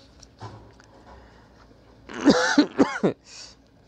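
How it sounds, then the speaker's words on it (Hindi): A quick burst of several harsh coughs, close and fairly loud, after a few seconds of quiet room noise. "थोड़ा बीच में खांसी आ गई"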